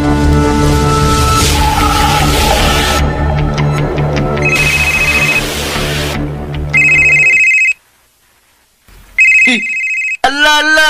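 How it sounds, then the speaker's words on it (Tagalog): A cellphone rings with repeated electronic ringtone tones amid dramatic background music in a radio drama, the rings coming in short bursts with pauses and near silence between them. "bagting akong cellphone"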